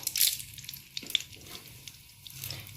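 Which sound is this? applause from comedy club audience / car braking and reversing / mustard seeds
mustard seeds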